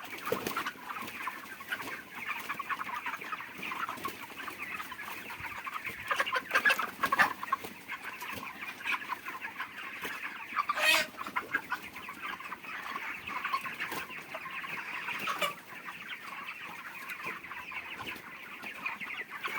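Chickens kept on a rooftop farm cluck and murmur steadily at close range, with occasional sharper calls and a few brief wing flaps or knocks.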